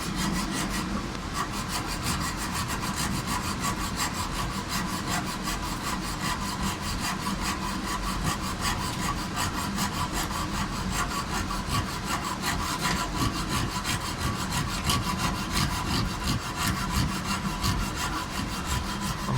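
Small hand saw cutting through material while replacing a duct air conditioner's condenser fan motor, a continuous rapid back-and-forth rasping of steady strokes, close and loud with no talking.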